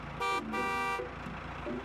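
Two short honks of a school bus horn, the second held longer, close by over a low background rumble.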